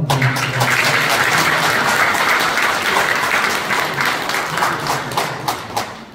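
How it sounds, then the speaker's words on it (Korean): An audience at an awards ceremony for a Pocheon community welfare council gives a big round of applause, dense sustained clapping that tapers slightly toward the end. "큰 박수 한번 드립니다."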